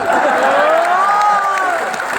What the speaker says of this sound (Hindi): ताली इस बात पे बजाना कि जो किसी की नहीं सुन रहा वो नरेंद्र मोदी